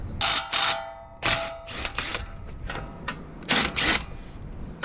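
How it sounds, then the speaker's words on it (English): Wrench loosening the two coilover bolts on a 2021 Toyota Tacoma front suspension, a few sharp bursts of metallic ratcheting and clicking with short pauses between, close and fairly loud. "So with the jack putting pressure on the coilover, I'm going to loosen the 2 bolts right here."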